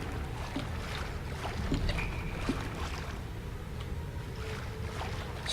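Gas pumps run in the Outlast horror game, giving a steady low mechanical rumble and drone with faint higher clanks and whirs layered over it, continuous throughout.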